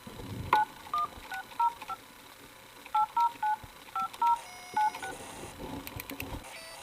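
A phone number is dialed on a mobile phone, a sequence of short keypad beeps in small irregular clusters, fairly clear against quiet background noise.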